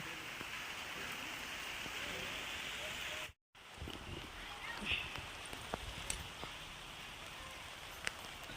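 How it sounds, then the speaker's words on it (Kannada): Moderate rain patters steadily outdoors, a soft continuous hiss with scattered louder drops and a brief gap midway. "ಈಗ ಮಳೆ ಬಂತಂದು ಖುಷಿ ಪಡ್ಬೇಕು"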